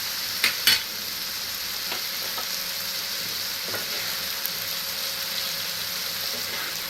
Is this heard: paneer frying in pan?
yes